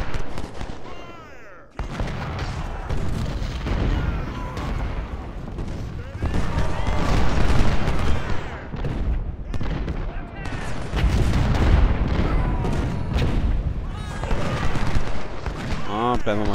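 Cannon and artillery fire booms repeatedly in a Civil War battle at Gettysburg in the strategy game Ultimate General: Civil War, dense continuous volleys and rumbling blasts filling the whole stretch, with a voice talking over parts of it.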